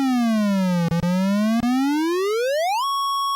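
A chiptune square-wave note slides smoothly down in pitch, then bends back up to settle on a steady held tone, bright and buzzy, with brief dropouts and no voices.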